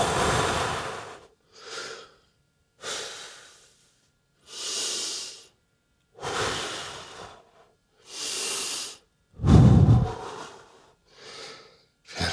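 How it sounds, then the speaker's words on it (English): Deep, heavy breaths during a bodyweight home workout come as about eight or nine long inhales and exhales, close and loud with quiet gaps between them, one especially forceful and breathy. "Deep breaths."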